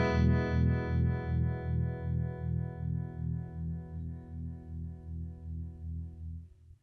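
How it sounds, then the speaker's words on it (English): Electric guitar played through a Fender Jack White Pano Verb amp in stereo mode: one sustained, effected chord rings out and slowly decays, pulsing in a steady wobble as the signal shifts between speakers, with no talk. "in the stereo mode there, it was kind of like subtly jumping between both speakers"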